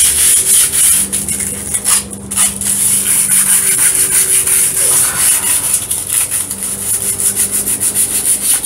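Sandpaper is rubbed back and forth over a wooden piece being prepared for a one-string canjo, giving close, loud, rhythmic scratchy strokes with brief pauses between passes.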